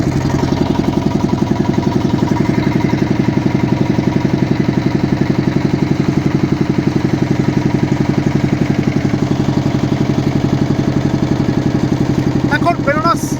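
A motor boat engine chugs steadily on the Ganga at Varanasi, a loud, even low drone with rapid regular pulsing throughout, and a few faint higher clinks near the end.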